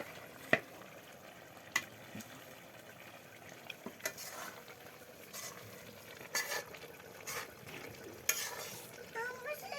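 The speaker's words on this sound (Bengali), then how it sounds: "ডালগুলো এখন ভালো করে কষিয়ে নেবে একেবারে ঘন ঘনের মতো" Boiled lentils being sautéed and stirred in a pan, thickening down, with scattered spoon scrapes and clinks against the pan over a soft low sizzle, no voices.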